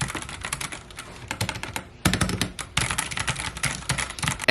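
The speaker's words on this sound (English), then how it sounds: "Next, we are going to my Sermon keyboard." Fast typing on a Sermon mechanical computer keyboard in a home creator studio: dense, crisp key clicks close to the mic, with brief pauses between bursts and no talking.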